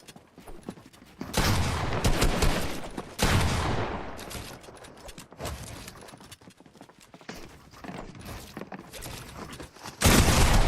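Video game gunfire comes in loud, sustained bursts of rapid shots, broken by brief pauses and resuming sharply at the end.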